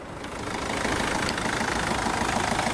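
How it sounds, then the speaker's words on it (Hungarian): A Toyota Corolla 1.4 D4D 90 hp diesel idles with a quiet, steady ticking clatter, heard close and even with no voices over it. "de 90 lóerős dízel motorunk. Amilyen szépen halkan ketyeg."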